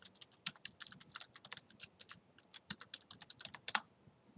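A username and password being typed on a computer keyboard while pushing code to GitHub: quiet, close, irregular clicking keystrokes in quick bursts, with no voices.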